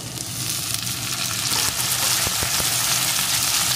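Four or five slit green chillies and chopped tomato fry with onion and garlic in a pan for a bhetki fish-bone chorchori, producing a loud, steady, close sizzle that hisses without a break.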